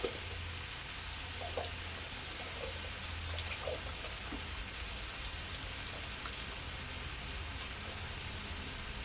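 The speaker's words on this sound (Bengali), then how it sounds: "আমার হাঁড়িতে গরম জলটা ফুটছে।" Hot water boils in a cooking pot while rice is being cooked, producing soft, steady bubbling and popping, quiet and close, with no voices.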